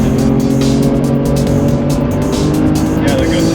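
Porsche 911 engine under full throttle on a race track, a loud, constant roar filling the cabin with little change in pitch.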